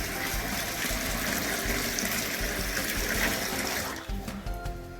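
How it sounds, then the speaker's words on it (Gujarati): Chana dal and moong dal are washed in water, with a steady splashing and sloshing rush that eases and thins out near the end. "એકદમ ચોખ્ખું પાણી આવી જાય ને ત્યાં સુધી આપણે આને વોશ કરવાની છે"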